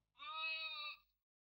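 A young goat kid bleats once, a clear, close, drawn-out cry lasting just under a second with no other sound around it.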